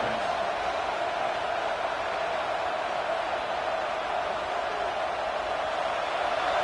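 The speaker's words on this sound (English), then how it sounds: "This crowd, full throat, splitting the eardrums and letting them know it's going to be a long day" A stadium crowd at a football game roars loudly and continuously, a dense, steady wall of cheering with no breaks.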